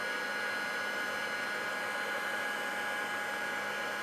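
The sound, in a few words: heat tool melting embossing powder for card making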